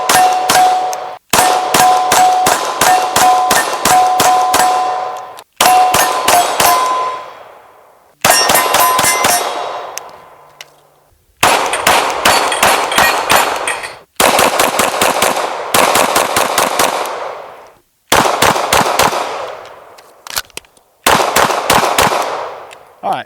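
PSA Dagger pistol fired outdoors at a range, sharp loud cracks in fast strings of shots with short pauses between volleys, each bang ringing with a metallic clang.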